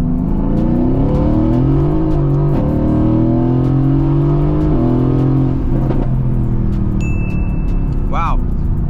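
670HP Mercedes-AMG GT S accelerating hard in second gear on a cold, wet road with traction control on, a loud rising engine roar with climbing harmonics, brief shift dips and a whine near the end.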